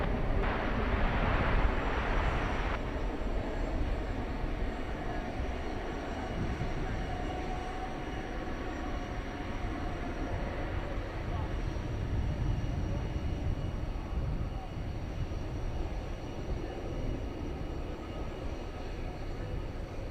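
A trijet airliner takes off at night at DFW Airport, its engines producing a heavy, sustained broadband roar that stays steady and fairly loud throughout, strongest at the start before settling into a constant rumble.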